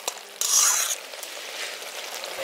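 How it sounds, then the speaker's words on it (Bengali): Onion paste fried and stirred in a pan for village-style chicken kosha, a steady sizzle with a louder burst of scraping and stirring near the start, then settling into continuous frying. "এখানে পেঁয়াজ বাটাটা দিয়ে এটাকেও খুব ভালো করে পেঁয়াজের সঙ্গে একটু কষিয়ে নিচ্ছি"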